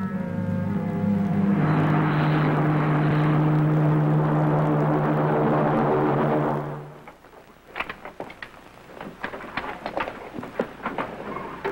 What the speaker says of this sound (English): The spaceship blasts off from the enemy planet Regalio and is approaching Herculon for a landing.